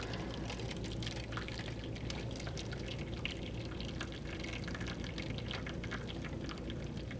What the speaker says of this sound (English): I'm going to take my water that was boiled and pour it into my roasting pan